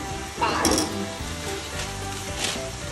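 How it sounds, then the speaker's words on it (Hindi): French fries frying in hot oil in a home kitchen, a steady close sizzle with a louder burst near the start and faint clinks of a utensil. "तो हम रस्ते के लिए फ्रेंच फ्राई बना रहे हैं"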